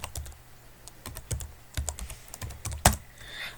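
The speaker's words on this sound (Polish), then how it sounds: "wpisujemy disk part" Fast, close clicks of typing on a computer keyboard in short bursts, ending with a sharper keystroke like a final enter press, no talk.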